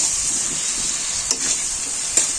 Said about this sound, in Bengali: কিছুক্ষণ মশলাগুলো কষানোর পর এবার দিয়ে দেওয়া হচ্ছে ছোট একটা টমেটো বেটে রাখা ছিল দিয়ে দেওয়া হলো